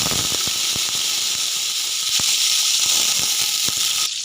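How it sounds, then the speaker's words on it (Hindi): Chopped onion fries in hot oil after whole garam masala for matar pulao, giving off a steady, close sizzle and hiss broken by scattered small pops and crackles. "व्यूअर्स, प्याज को हल्का गोल्डन कलर आने तक फ्राई करेंगे।"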